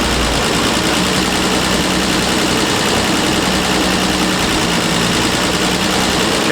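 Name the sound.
car engine idling with Zenith-Stromberg carburettor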